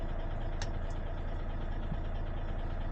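A large cargo truck, a tractor-trailer rig, idles steadily after a cold start, with a continuous low, even rumble and a couple of faint metallic clicks over it.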